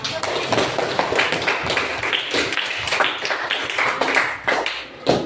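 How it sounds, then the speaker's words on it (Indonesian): Pupils in a classroom clap their hands together, a sustained burst of crisp overlapping claps at close range, with a few louder slaps near the end. "kita tutup sepakat ini dengan tepuk tangan bersama"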